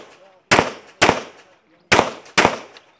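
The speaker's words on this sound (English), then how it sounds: "We're gonna run the Glock 34, the KKM precision barrel" Four sharp pistol shots from a Glock 34 with a KKM precision barrel at an outdoor USPSA pistol match, fired in two quick pairs with brief echoing decay after each report, close and loud.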